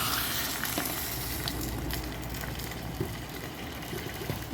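Curry of taro root and potato sizzling steadily in a pan as a little water is added, a dense, continuous frying hiss at moderate level, with no talk.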